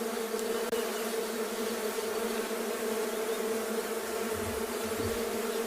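A swarm of African honeybees excavating a nest hums in a steady, dense, continuous buzz that holds evenly throughout, loud and close against an outdoor safari setting.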